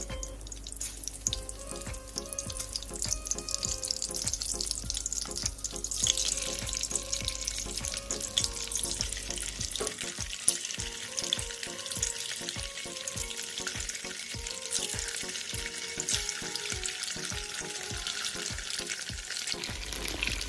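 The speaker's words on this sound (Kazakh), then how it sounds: "Осылай қызып тұрған майымызға қуырып алатын боламыз жақсылап." Ready-made chicken sticks fry in hot oil for a quick breakfast, giving a steady dense sizzle throughout, close and fairly loud, with spatter and a change in texture partway through as the pieces are moved.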